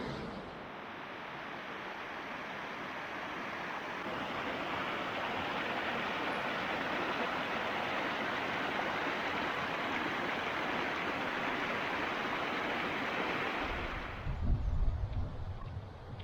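Swallow Falls near Betws-y-Coed, a waterfall whose rushing water roars as a broad, steady wash for about fourteen seconds, fairly distant and continuous, before the sound shifts near the end.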